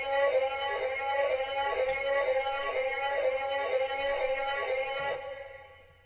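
Sustained vocal atmosphere pad with reverb and added chorus and phaser modulation, a dense shimmering harmonic drone that swirls gently, with a brief bright click early on, before fading out smoothly.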